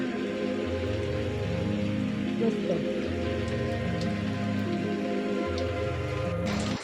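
Heavy monsoon rain pours steadily over a village in the Konkan region, a constant close hiss of drops on surfaces throughout, with voices talking beneath it.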